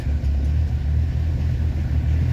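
A GAZ truck's engine idles steadily just after starting, a close, continuous low rumble that holds even throughout with no talk over it.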